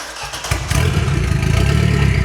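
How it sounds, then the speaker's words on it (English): A rare car's engine cranks and catches, then settles into a loud, close, rumbling idle with a steady pulsing throb. "I assume meaning starting the engine."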